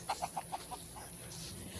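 A small flock of backyard chickens, kept in a covered cage while being treated for illness, gives a quick run of about six soft clucks that fade away, then a quiet background hiss.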